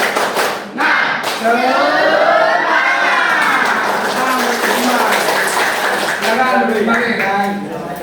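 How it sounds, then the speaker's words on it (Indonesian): Students in a classroom perform a rhythmic spirit clap, loud group clapping mixed with children chanting and shouting together in a steady beat for several seconds. "Tepuk semangat."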